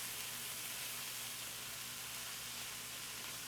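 Kale sizzling steadily in a hot pan, a constant even hiss with no pauses, moderately quiet and alone.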